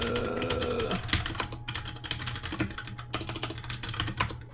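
Fast, dense typing on a computer keyboard, rapid close clicks and clacks in quick bursts with no voices.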